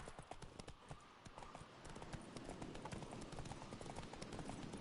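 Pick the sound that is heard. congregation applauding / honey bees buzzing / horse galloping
horse galloping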